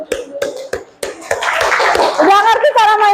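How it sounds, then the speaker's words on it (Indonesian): Children clapping hands in a classroom, a few separate claps and then a stretch of scattered clapping, with a voice and an adult's voice speaking over it. "udah tepuk tangan."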